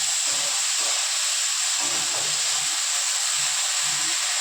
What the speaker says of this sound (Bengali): এবার বকলিটা দিয়ে দেবো, হালকা করে ভাজবো।